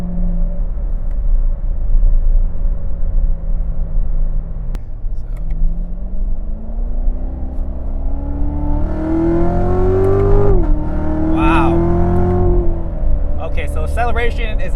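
A Corvette C7 Z06 sports car accelerates hard, its engine rumbling and rising in pitch through the gears, heard loudly from inside the cabin.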